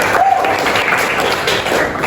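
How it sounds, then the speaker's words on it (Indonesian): A classroom audience at a vocational high school claps for a student named Sari, a steady wash of applause from many hands with some talking mixed in, running without a break. "Tepuk tangan untuk Sari."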